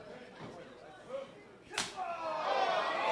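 A single sharp slap cracks out in a wrestling arena, ringing with a reverberant echo off the building's walls, amid faint crowd noise that swells afterward.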